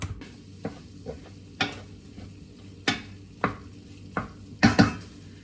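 Batchoy ingredients fry briefly in plenty of oil, a low sizzle under a series of sharp, separate clanks and scrapes of a spatula against the pan, about eight hits spread over a few seconds.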